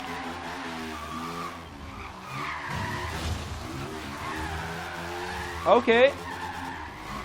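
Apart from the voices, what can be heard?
BMW Isetta tires skidding while drifting in video game Forza Horizon 3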